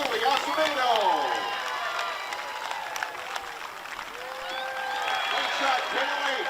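A ballpark crowd applauds after a young girl's ceremonial first pitch. Scattered clapping and cheering carry through the clip, with an announcer's voice over it.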